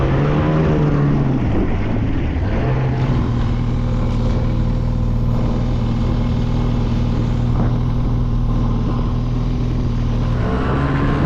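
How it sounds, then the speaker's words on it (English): A snowmobile engine idling and running steadily up close in Kotzebue, Alaska, a loud droning hum with a brief dip in pitch near the start. "Picking up my snow machine."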